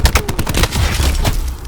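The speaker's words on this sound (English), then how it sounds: "I'm using my secondary gun, which is my shotgun here" Rapid burst of shotgun blasts in Black Ops 4, several sharp close shots in quick succession with no talking.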